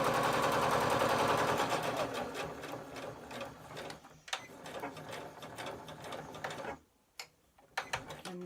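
A Butterick EB6100 sewing machine top-stitches a fabric coin purse in a steady close run of rapid needle ticks, then slows, stops, and restarts with a few short stitches.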